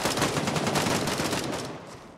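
Continuous rapid gunfire in the shooter game Gray Zone Warfare, a dense loud volley of overlapping shots that tails off slightly toward the end.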